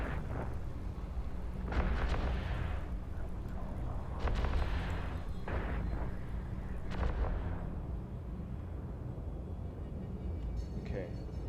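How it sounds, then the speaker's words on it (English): Ship guns firing in the EVE Online video game, several booming, rumbling blasts in irregular succession over a steady low background drone, with no talk over them. "Start shooting."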